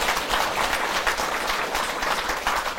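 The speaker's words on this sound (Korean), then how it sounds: "박수를 많이 주세요" Sustained audience applause at a Buddhist university lecture, a broad, even roar of many hands clapping together at moderate volume, steady throughout with no voices over it.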